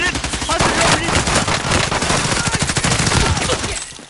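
Rapid automatic gunfire in a Call of Duty match, loud and continuous bursts of close machine-gun fire crackling for several seconds.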